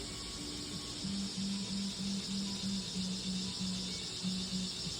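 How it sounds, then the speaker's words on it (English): A steady, faint drone of cicadas hums continuously under a broad background hiss, with no voices. "Maybe you can hear the cicadas humming in the background."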